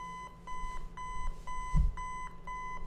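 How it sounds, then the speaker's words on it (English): Alarm clock ringing in the Five Nights at Freddy's 4 video game, a repeating electronic beeping in steady bursts of about half a second, loud and close with no talk over it. "No cheering, just the annoying alarm clock"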